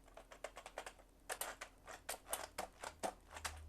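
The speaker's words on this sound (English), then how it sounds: "I'm delicately pressing keys" Rapid, quiet clicking of fingers pressing keys on a ZX Spectrum computer keyboard, an irregular run of soft taps close by with no talking.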